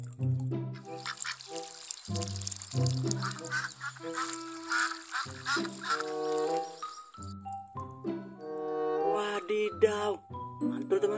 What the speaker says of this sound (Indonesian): Wow, ini bebek.